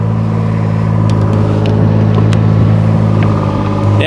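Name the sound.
vehicle accelerating after shifting into forward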